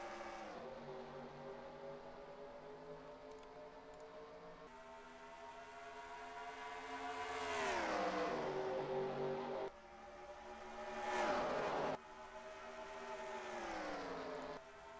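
NASCAR Racing 2003 stock cars at Las Vegas roar past on a restart, engines droning steadily and then swelling and dropping in pitch as several cars sweep by close, with no talking.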